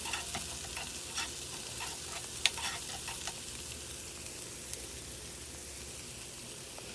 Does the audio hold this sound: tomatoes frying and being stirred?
yes